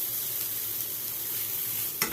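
Grated ginger and cumin powder frying in oil for shukto, a steady dense sizzle filling the whole stretch up close, ending with a single scrape of the spoon against the pan.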